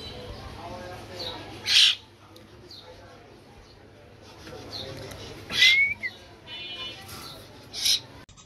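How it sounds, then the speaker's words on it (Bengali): A myna bird gives three sharp, piercing calls at intervals over a quiet, murmuring background, each one short and loud. "এটা হলো ময়না পাখি, খুবই সুন্দর কিন্তু।"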